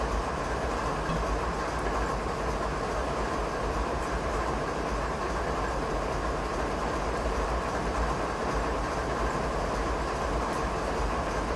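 Freight train hauling Canadian grain cars in the game Train Simulator 2016 on a Canadian mountain pass, a constant loud rumbling roll with faint rhythmic wheel clatter and no voices.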